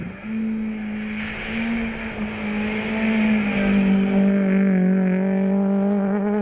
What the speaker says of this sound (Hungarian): A Honda R3-as egy 260 lóerős járgány, melyet szívó motorral szereltek fel.